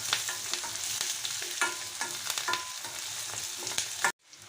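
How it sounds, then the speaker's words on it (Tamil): Onions and pepper sautéing in a pan for Tamil pulli kuzhambu: a dense, constant sizzle broken by quick scraping stirs of a spoon, close and fairly loud, ending abruptly near the end, with no voices. "இப்போ இது நல்லா வதங்கட்டும் அந்த வெங்காயம்லாம்"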